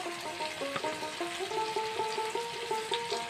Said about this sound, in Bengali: এবার আমি মশলাগুলো কষিয়ে নিচ্ছি।